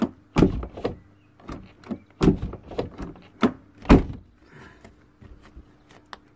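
Doors of a Jaguar with a faulty passive entry system being worked by hand, giving a run of sharp, close clunks and latch thuds at irregular intervals, some louder than others, with quieter rattles between them.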